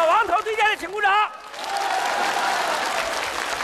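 An audience bursts into steady applause after a short spoken request, the clapping rising and holding loud and dense to the end.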